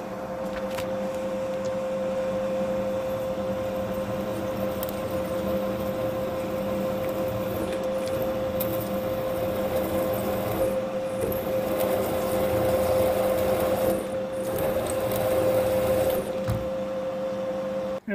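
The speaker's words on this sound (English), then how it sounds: "I'm going to center drill the last hole now." A lathe center drill cuts a mounting hole in a steel BMT60 toolholder, giving a steady close whir with a constant high motor whine and a continuous grinding hum, no talking.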